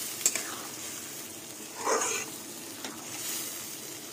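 Boiled lentils and taro stolons tipped into a hot pan, a low constant sizzle with a short burst of louder hissing and clatter midway, close and quiet, no talking.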